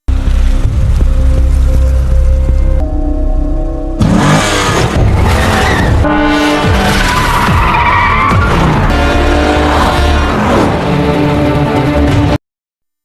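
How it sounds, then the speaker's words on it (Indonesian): A car peels away hard with tires skidding and squealing as the engine revs up, loud and close, over a bed of dramatic music, with several bursts of screeching across the clip. "si psikopat langsung bergegas tancap gas"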